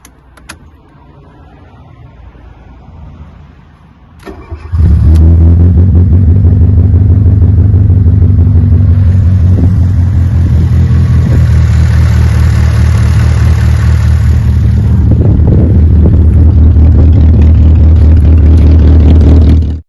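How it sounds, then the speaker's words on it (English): A classic Fiat Panda, unstarted for years and given only a fresh battery, cranks briefly and fires up, settling into a loud, steady close-up idle rumble that continues unbroken. "Okay, so the car started straight up."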